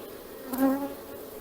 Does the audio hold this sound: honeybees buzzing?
yes